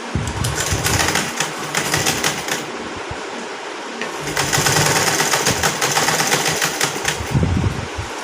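An electric sewing machine stitches a frill onto a garment neck design. It whirs in a fast, steady, close-up hum that runs in two long bursts with a short pause between them.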